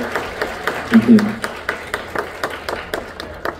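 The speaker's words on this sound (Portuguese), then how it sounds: "Uma salva de palmas para" Applause from a round-table audience at a cultural center, scattered rhythmic clapping under a voice announcing the next guest.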